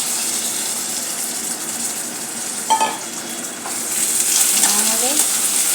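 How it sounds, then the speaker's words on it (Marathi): Green peas frying in a pan as they are stirred, a loud, steady sizzle with brief scraping and clinks from the stirring, heard close up and alone. "चांगला आपल्याला वाटाणा चांगला भाजून घ्यायचा आहे."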